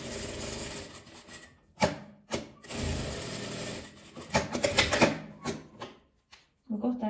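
A sewing machine stitches a denim patchwork pouch in short bursts of rapid mechanical rattling, separated by brief pauses, up close and loud.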